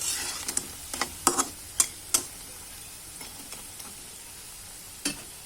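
Bora fritters fry in hot oil while being flipped, a faint steady sizzle punctuated by a handful of sharp clicks and taps from the turning utensil, close by.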